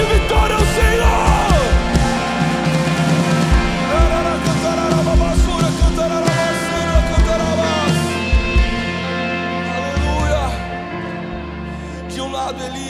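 A church congregation lets out a loud, sustained cry of victory to the Lord, many voices shouting and whooping together over a dense, droning musical backing.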